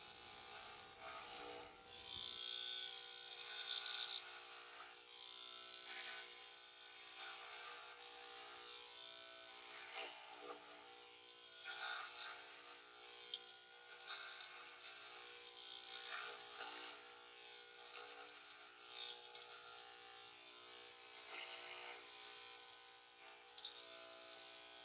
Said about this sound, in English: I know I'm probably not using the hair trimmer the way I'm supposed to